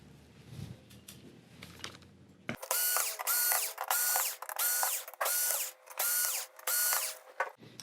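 An electric screwdriver backing screws out of a Sony XBR-65X850E TV main board, six loud whirring bursts in a steady rhythm, close up, after some quieter handling clicks.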